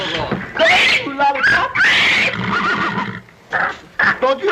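A racehorse aboard a ship neighs in loud, shrill, shaking whinnies, several bursts in quick succession, mixed with excited shouting and talk in an old film scene.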